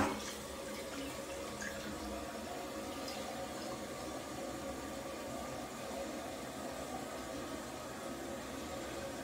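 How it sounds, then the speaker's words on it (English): A toilet flushing with a Lysol Click Gel applied in the bowl, giving a steady rushing of water that starts with a quick surge and then keeps running evenly and fairly quietly to the end. "So, let's give it a flush."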